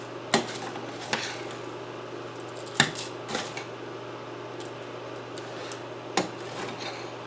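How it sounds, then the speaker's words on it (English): Stuffing ingredients are stirred gently in a pot with a spoon, making soft rubbing and scraping sounds marked by several distinct clacks against the pot's side. "I'm just going to stir them around gently."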